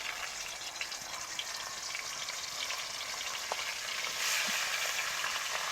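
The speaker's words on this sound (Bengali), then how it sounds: "তেলে ভাজা যে একটা সাউন্ড তাই না" Food frying in hot oil in a home kitchen, a steady dense crackling hiss that carries on evenly and swells slightly toward the end, with no talk over it.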